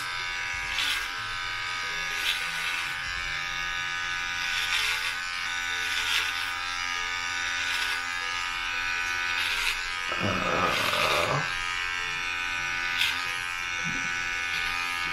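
Electric hair clippers buzz steadily and close up throughout a home self-haircut, with a faint rasp as the blades pass through hair and brief bursts of louder contact noise midway.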